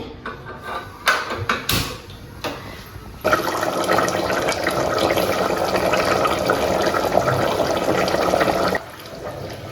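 Tamarind extract pours into simmering mutton paya in a pot, a steady liquid splash and gurgle running for several seconds after a few clinks and knocks, then stopping abruptly.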